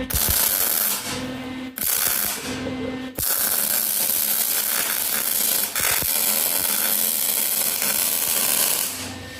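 Welding on the body of a 1996 Cushman Titan utility vehicle makes a loud, close, steady crackling hiss that runs through the whole stretch, broken by a few brief pauses between welds.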